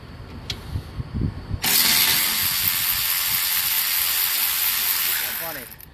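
A Milwaukee M12 1/4-inch power socket driver with a T30 Torx bit and 6.0 battery spins out panel screws on a Thermo King Tripac Evolution unit, a few clicks and knocks followed by a loud, sustained whirring run that winds down at the end.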